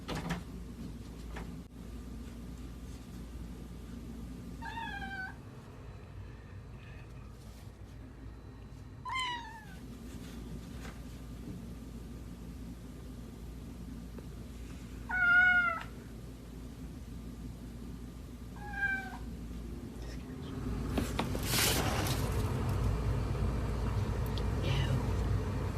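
A cat meows behind a door in a quiet room, giving four separate, fairly faint, muffled meows spaced several seconds apart, followed by a burst of broadband rustling noise near the end.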